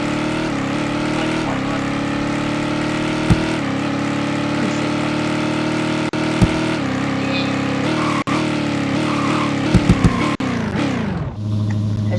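A 2018 Dodge Challenger drifts in the Roblox game Vehicle Legends, its engine a sustained, droning whine that shifts in pitch over about twelve seconds, marked by a few sharp clicks and an abrupt drop near the end.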